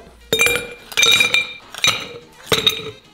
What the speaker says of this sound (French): On se prend notre petit verre et on va y mettre plein de glaçons.